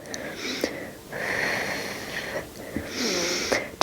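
Loud, close breathing in a mixed-ability exercise class: a few long, rasping breaths in and out with brief pauses between them, hoarse and slightly wheezy.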